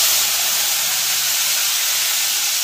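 Tomato goes into a hot pan of oil with mustard seeds, cardamom and cloves and bursts into a loud, close, steady hissing sizzle that holds without a break, no voices.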